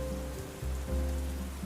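Steady rain patters on a surface as a continuous wash of noise beneath a low rumbling hum in a Spanish mystery audio drama, with no voices.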